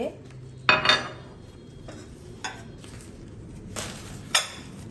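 Ceramic half plates handled and set down, giving a few sharp clinks early on and a couple of lighter knocks later, close by in a quiet room.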